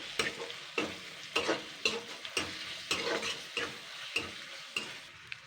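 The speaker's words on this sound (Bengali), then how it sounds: "এটাকে আমি একটু 2 মিনিট মতো নাড়াচাড়া করে নেবো।" Fish egg mixture with salt and sugar is stirred in a pan on the stove, giving regular scraping strokes about every half second over a steady close sizzle of frying, with no talking.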